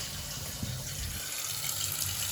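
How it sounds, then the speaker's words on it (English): Water runs steadily from a tap into a bowl of ground ingredients, a continuous gushing fill heard close and alone. "I'm just going to add enough water, like a lot of water."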